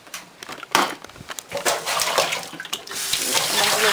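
Running tap water splashes over fresh produce such as tomatoes in a kitchen sink, starting in uneven bursts and settling into a steady close stream, with no talk over it.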